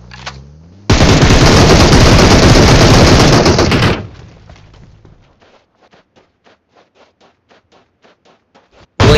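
Loud automatic gunfire in the mobile game PUBG Mobile roars in one sustained burst for about three seconds, then gives way to quieter rhythmic footstep-like taps, and another shot cuts in at the end.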